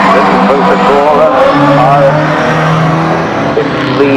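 A 1800 works rally car at a historic rally event sits on the start line, its engine idling and revving loudly with a steady droning tone, while a commentator talks over it.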